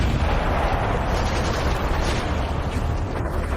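Heavy artillery and autocannon fire in a dramatized battle against a hive makes a dense, continuous roar of overlapping booms and blasts, loud and close, with no pauses or talking.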